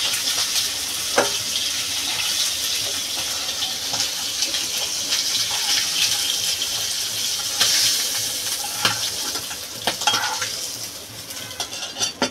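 Shingi fish lightly frying in oil in a home kitchen gives a steady sizzle, with sharp clinks of a metal spatula against the pan as the pieces are turned and lifted out, and no speech.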